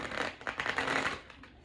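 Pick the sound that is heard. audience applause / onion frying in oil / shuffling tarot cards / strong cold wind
shuffling tarot cards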